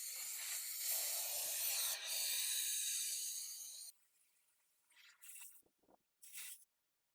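Compressed air hisses loudly and steadily from the drain release valve under a Porter Cable air compressor for about four seconds, then cuts off into a few short, sharp bursts of escaping air.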